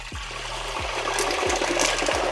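Water splashed into hot frying grease while seafood cooks, bursting into a loud, steady crackling sizzle with a few low thuds, lasting a couple of seconds.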